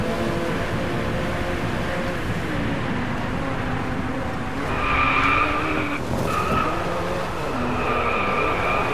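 Race car cornering in the DRIVECLUB racing game, a steady loud engine drone with tire skidding and squeal rising mid-clip, continuous throughout with no voices.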